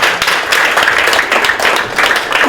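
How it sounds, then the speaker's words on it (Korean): Loud, close clapping from attendees at a crisis meeting between Geoje city and Samsung Heavy Industries' subcontractors, thanking the reporters; sharp individual claps in bursts, fairly sparse, with no speech over them. "우리 기자님들 박수 한번 보내주세요."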